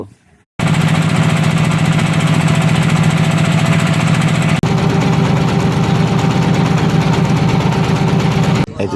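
Loud, steady diesel chugging of a trawler boat's engine near Chhera Dwip off Saint Martin's Island, a rapid rhythmic knock running continuously with a slight shift in tone midway, then cutting off abruptly.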